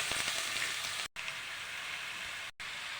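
Thinly sliced shallots fry in hot oil for a Kozhikode-style dum biryani, giving a steady, dense crackling sizzle that runs without pause apart from two brief dropouts.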